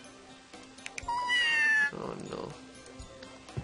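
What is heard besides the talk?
cat meowing in the video game Scribblenauts Unlimited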